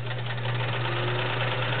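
A 1941 Kenmore convertible sewing machine runs with a steady, even motor hum and fine mechanical whir, moderately loud and continuous throughout, with no voices.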